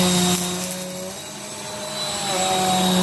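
A Bissell Powerforce Compact upright vacuum cleaner runs continuously during a mess test, a loud, close, steady motor drone with a high whine that dips slightly mid-way and swells again, no talking.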